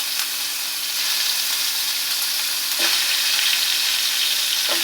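Chicken lollipops dropped into a shallow layer of hot oil and frying over a high gas flame, giving a loud, steady sizzle and hiss that runs throughout with no voices.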